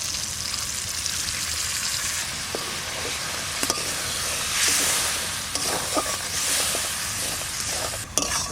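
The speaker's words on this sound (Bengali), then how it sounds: "টক দই দেওয়ার পরে একটু নাড়াচাড়া দিয়ে নিলাম ভালো করে।" Spice paste with freshly added sour yogurt and a splash of water sizzles steadily in a pan, broken by scraping stir strokes and light clinks of the spoon, a close, continuous frying hiss with no talk.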